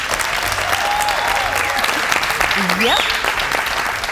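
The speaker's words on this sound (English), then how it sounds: "Congratulations, round of applause for him." Studio audience applauding on a South African business reality show after a tourism-pitch task, a dense steady clapping wash for the full few seconds, with a brief spoken word and some whistle-like tones over it.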